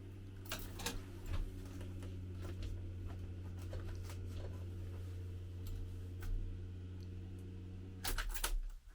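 A car fuel pump running with a steady low electric hum and faint ticking, quiet and continuous, ending with a brief louder clatter.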